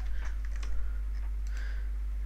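Keys tapped on a computer keyboard while a game server is being set up, a few light, scattered clicks over a steady low hum, close and fairly quiet.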